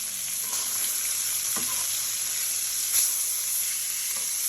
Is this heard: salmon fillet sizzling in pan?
yes